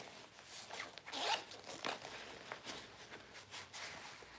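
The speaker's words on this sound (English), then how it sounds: "There's the zipper." The zipper on a Coach handbag is drawn in several quiet, scratchy strokes at an uneven rhythm, close up and with no voices.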